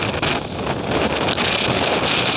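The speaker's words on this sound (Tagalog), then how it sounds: "Napakalakas ng hangin at saka ulan." A strong wind-and-rain storm roars without a break, loud dense gusts buffeting the microphone with no voices over it.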